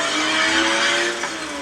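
A Carrera Hybrid RC drift car whines steadily as its throttle is held, eases off under braking, then accelerates again, a thin, close electric motor tone with a brief dip near the end.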